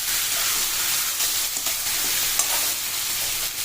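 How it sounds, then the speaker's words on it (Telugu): Snake gourd curry frying in oil in a pan, a steady bright sizzle with light stirring scrapes, close and even throughout with no talk. "ఇది వేగనిస్తాం"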